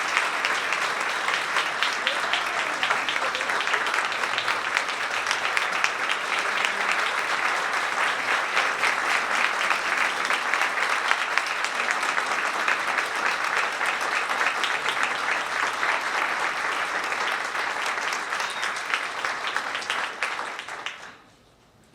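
Sustained audience applause at the Ocean County Teacher of the Year Awards 2023, welcoming an honored teacher to the stage: dense, even clapping filling the room for about twenty seconds before stopping abruptly.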